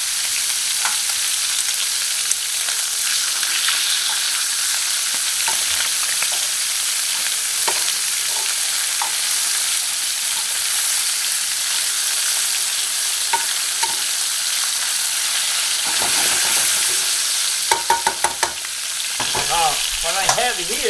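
Onions and red peppers sauté in a pan for a chicken cacciatore, giving a steady, close sizzle and frying hiss. Occasional stirring scrapes and clinks run through it, with no talking.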